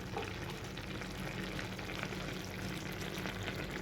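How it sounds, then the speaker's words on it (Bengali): Ghee goes into a simmering bottle gourd curry, giving a steady close sizzling and bubbling with faint stirring, continuous and even, with no voices. "আমি এবার এর মধ্যে একটু ঘি দিয়ে দেবো।"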